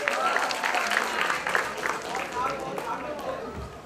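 An audience at a grand finale award event claps in a moderate, uneven round of applause while a voice talks over it, the clapping fading slightly toward the end.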